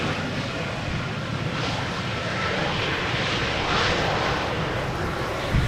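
A Boeing 747 landing at Schiphol Airport produces a loud, continuous engine roar and rushing wind noise throughout, with a slight swell in intensity toward the end and no voices.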